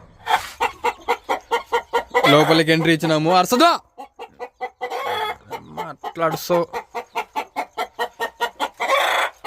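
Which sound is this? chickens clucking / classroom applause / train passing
chickens clucking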